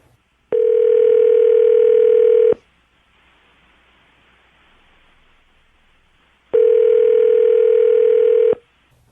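Two long steady telephone dial tones, each about two seconds, separated by a few seconds of faint line hiss while a call to a florist is placed; loud and close, with no voices.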